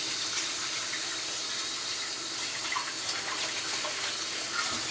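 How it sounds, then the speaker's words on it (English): Tap water runs steadily from a kitchen faucet during handwashing, a continuous hiss and splash at moderate level with no pauses. "1 minute to wash my hands."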